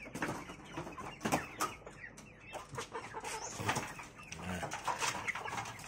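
Ayam Cemani chickens, a black breed kept with Kedu chickens in a small backyard pen, cluck and call in a steady, busy stream of overlapping close-range bird sounds with no speech.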